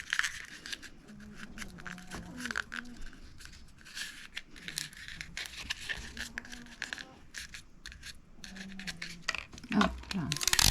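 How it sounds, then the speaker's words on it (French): Sticky tape rips off a roll with crackly tearing, then gets pressed and rubbed down, amid rustling paper and a few quiet voices. "et après on va venir mettre du scotch"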